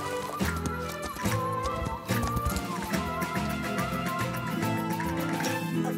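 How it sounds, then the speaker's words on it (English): A horse hitched to a cart clip-clops along in a cartoon scene, steady hoof knocks mixed with a whinny, rattling and background music. "Of course you hear a horse."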